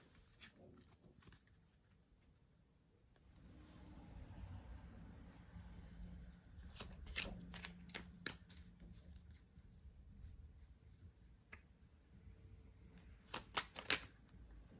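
Tarot cards are shuffled by hand, quiet riffling and sliding that builds into sharper slaps and flicks as cards spring loose from the deck, close and intermittent over a soft background.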